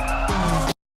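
Tires of a Corvette C8 in the racing game Need for Speed Unbound screech in a loud, continuous skid with engine tone underneath, changing pitch partway through before cutting off abruptly.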